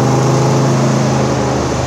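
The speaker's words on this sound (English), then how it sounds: "This is raw American power, 1967 Corvette, marina blue, four-speed transmission, L71." A marina blue 1967 Chevrolet Corvette L71 with a 435 hp engine and four-speed transmission drives along with a loud, steady, close engine drone and no break in the rumble.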